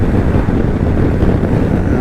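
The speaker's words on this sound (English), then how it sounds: "It's very windy" Strong gusting wind buffeting the microphone of a rider on a Honda GoldWing motorcycle, a loud continuous low rumble filling the whole moment with no other sound breaking through.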